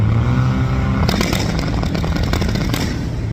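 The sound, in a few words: turbo Mini Cooper revving at 4,200 RPM on launch control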